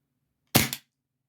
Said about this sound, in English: Okay, and we're going to do a test fire.